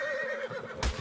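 An Equus horse in the video game Ark gives a short, clear whinny with a wavering pitch, ending in a soft thump, all within about a second.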